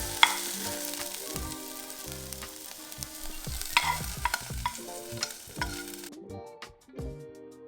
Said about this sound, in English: I'm gonna be frying everything up.